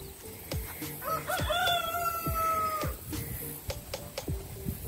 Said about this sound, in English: And here's my daughter's chickens.